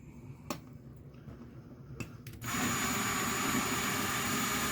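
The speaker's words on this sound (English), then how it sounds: "Some of these are easier than other ones as far as when you drill, the material's a little softer on these heads, these rivets." Power drill boring out rivets on a 1970 AMC Rebel Machine car, faint clicks and taps giving way to a sustained loud whirring drill run.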